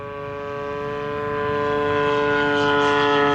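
A Seagull Models Gilmore Red Lion Racer, a 35cc gas-powered RC plane, drones past on a fast pass, its strong steady engine note growing louder as it closes in.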